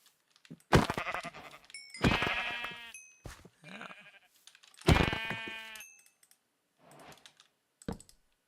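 A sheep bleats loudly several times in long wavering cries, close and clear, with short gaps and a few brief fainter calls between, no talk over it.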